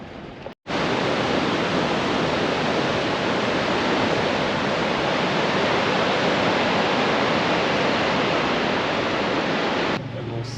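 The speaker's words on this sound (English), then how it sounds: "Geez, there's some big waves, hey?" Big ocean waves near Port Lincoln crash in a loud, continuous broadband roar that fills the whole clip, with a brief dropout near the start and a sudden cut at the end.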